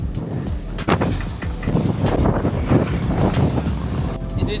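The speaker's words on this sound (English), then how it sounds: "It is very windy" Strong wind buffeting on a beach walk after a storm, a continuous loud rumbling roar of gusts across the microphone, steady throughout with slight surges.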